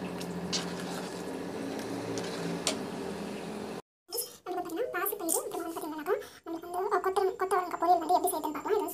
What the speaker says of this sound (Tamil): இது நல்லா வந்து கொதிக்கட்டும்.